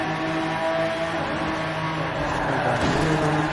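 Engine of a 2016 Lamborghini Aventador SV in Forza Horizon 4 on a highway, a steady loud drone that rises as the car accelerates toward the end.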